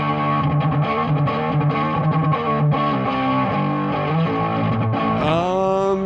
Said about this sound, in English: It definitely can get that kind of edgy, thick gain distortion.